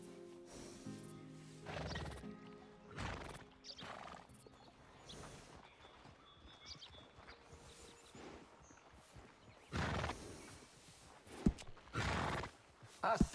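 Horse neighing and whinnying several times, with hooves clip-clopping in between, fairly faint and distant with no talk over it.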